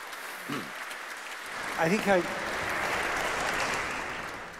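Conference audience applause fills the hall as a steady wash of clapping, with brief voice sounds breaking through near the start and middle.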